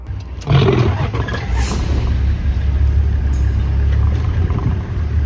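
A lion's loud, close roar bursts out during an African safari, its deep rumble lingering over the steady low drone of the safari vehicle's engine as the car reverses.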